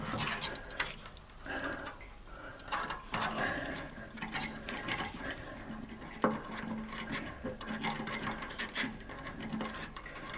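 Ratchet clicking while a nut is quickly fitted during a Howden WE 501 job, rapid dry ticks in irregular bursts close by with some faint metallic knocks, no speech over it.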